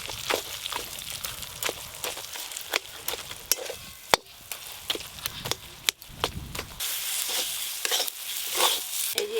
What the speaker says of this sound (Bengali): এই যে এরকমভাবে নেড়ে নেড়ে খুব সুন্দরভাবে জলটাকে শুকিয়ে নেব